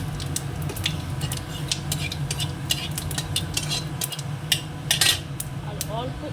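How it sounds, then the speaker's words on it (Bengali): Cumin seeds and two dried red chilies go into hot oil in a pan, giving a low steady sizzle broken by frequent sharp clinks and scrapes of a metal spoon against the pan, with no talking. "তেলটা গরম হয়ে গেছে, দিয়ে দেবো জিরে আর 2টো শুকনো লঙ্কা।"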